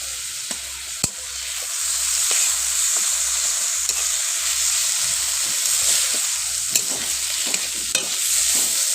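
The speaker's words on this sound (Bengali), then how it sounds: "এবার ভালো করে নেড়ে নিচ্ছি" Jackfruit seeds frying in a pan with Kashmiri chili powder, turmeric and salt, a steady sizzle under rhythmic stirring scrapes that repeat at an even pace, with occasional sharper knocks of the spoon.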